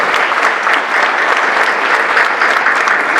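Loud, dense audience applause at a centenary conversation event honoring composer Álvaro Carrillo, a continuous wash of many hands clapping close and full for the whole stretch, with no talk over it.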